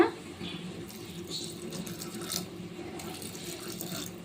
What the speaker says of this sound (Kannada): ಕುಕ್ಕರ್ಗೆ ಬೇಳೆ ನೀರು ಸೇರಿಸ್ಕೊಳ್ಳೋಣ